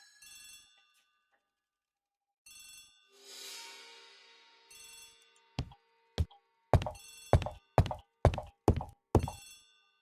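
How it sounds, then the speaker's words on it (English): Old-fashioned telephone bell rings in a hallway within The ABC Murders PC mystery game, coming in several short trilling bursts separated by gaps, later mixed with a run of sharp loud knocks or thuds. "The telephone in the hall is ringing."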